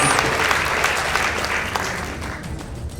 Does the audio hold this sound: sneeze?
no